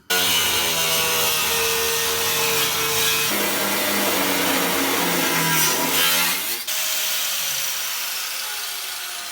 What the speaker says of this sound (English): I can't see the line that I'm trying to cut because the grinder's in the way.